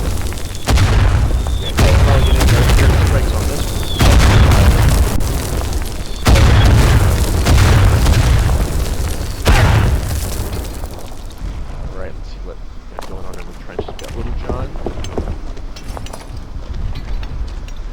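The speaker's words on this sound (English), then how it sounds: "Oh, artillery! Yeah, we'll probably get into artillery strikes on this one." Artillery strikes explode in the World War I video game Verdun: several heavy booming blasts roll in close succession, then fade to scattered smaller distant bursts and rumble.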